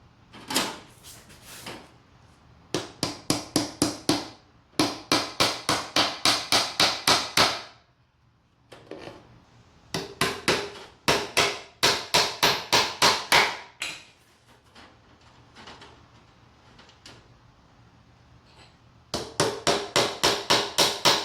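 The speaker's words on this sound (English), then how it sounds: "You want to use a nail so it doesn't tear the hardware cloth up." Nails hammered into a wooden soil sifter frame holding hardware cloth, with close, loud bursts of rapid, evenly spaced hammer strikes separated by brief pauses.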